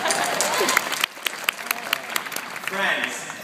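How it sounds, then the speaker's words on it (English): Graduation ceremony audience applauding and cheering, a dense clatter of clapping that dips after a second and continues in scattered claps with some crowd voices. "round of applause for all of you"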